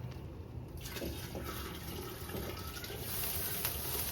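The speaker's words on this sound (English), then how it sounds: "and now I'm gonna add the broth" Broth poured into a cooking pot of pozole rojo, a steady close splashing trickle of liquid that runs for several seconds, a little louder toward the end, with no talking.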